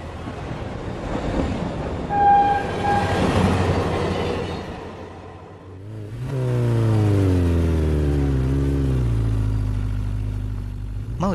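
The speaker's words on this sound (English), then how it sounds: "Train." A train rumbles past loudly with a rolling, surging roar. Partway through, a deep sustained horn blast with rich harmonics sounds and slowly bends downward in pitch as it passes.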